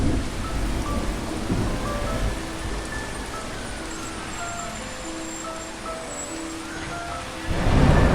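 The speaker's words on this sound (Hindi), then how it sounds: "इस बीच बहुत जोर से बारिश शुरू हो गए।" Heavy rain pours down in a rural downpour, seen from a hut used as shelter, a dense steady hiss with low rumbling that may be thunder, swelling louder near the end.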